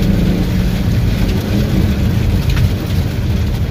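A 2020 Subaru WRX STI pulls away, with a steady, loud cabin rumble of engine and road noise that holds at an even level throughout.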